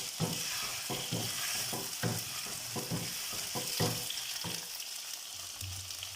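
Chicken karahi sizzles steadily in a pan while large tomatoes are stirred in, with repeated scraping strokes over a continuous frying hiss. Close and fairly quiet, without speech.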